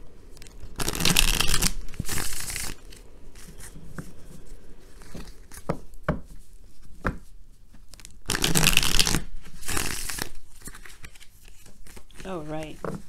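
Tarot cards shuffled by hand in two loud bursts of riffling and flapping, with softer handling and tapping of the deck in between, close to the listener.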